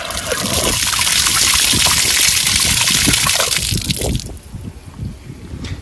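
Water gushes from a tap fitted to an IBC euro cube tank, a loud, close, steady splashing stream that cuts off after about four seconds, leaving faint drips and trickles.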